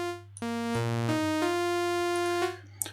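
Synth melody played on Logic's Alchemy instrument: a short phrase of a few bright, sustained harmonic notes stepping in pitch, clean and alone.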